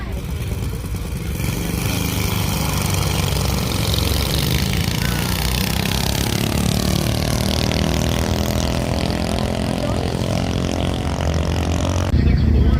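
Mini bike engines roar continuously at a drag race, a loud steady buzzing drone with shifting harmonics that rises near the end, running throughout with no pauses.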